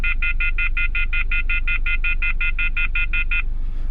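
A run of about sixteen identical short, high-pitched electronic beeps in quick steady rhythm, loud and close, comes from an OBD2 diagnostic scanner signalling a reminder at the end of a session on a BMW, with a faint low hum underneath.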